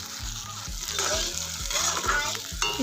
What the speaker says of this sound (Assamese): এতিয়া মই এইখিনি ভালদৰে ভাজি লম যেতিয়ালৈকে তেল নোলাই মছলাৰ পৰা